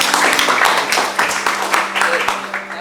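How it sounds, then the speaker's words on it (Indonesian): A classroom group claps for a team of students, a short burst of dense hand clapping lasting a few seconds, close and fairly loud, with some voices underneath. "Sekali lagi tepuk tangan untuk kelompok 1"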